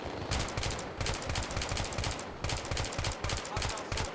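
Rapid automatic gunfire in Battlefield 3 on the Seine Crossing Rush map, steady bursts of rhythmic shots close and loud, repeating in clusters for the whole stretch.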